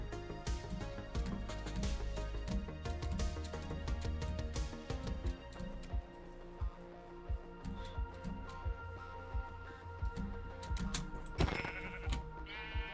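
Blocky Minecraft sheep bleat repeatedly over a bed of game sounds and clicks, a series of nasal bleats close by, with no voices.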